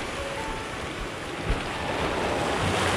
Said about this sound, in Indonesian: tapi ombak sudah lumayan besar ini